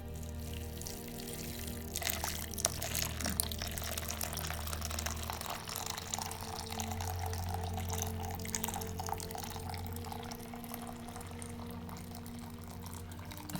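Water poured into a pot to make broth for a home-cooked Skyrim-inspired dish, a steady continuous splashing flow lasting throughout, fairly close and even in level.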